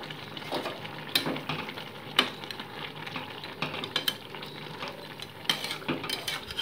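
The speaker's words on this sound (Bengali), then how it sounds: "মাছগুলোকে ভালো করে সবজির ঝোলের মধ্যে মিশিয়ে নিচ্ছি আমি।" Small morola fish are stirred into a vegetable gravy in a metal pan, producing repeated scraping and clinking of a spoon against the pot over a soft simmering sizzle, with sharp knocks every second or so and no voices.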